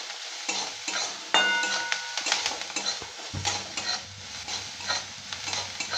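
Onions sizzle in hot oil in a pan while a utensil scrapes and stirs them, clinking against the metal in irregular strokes; steady frying hiss close by, no voices.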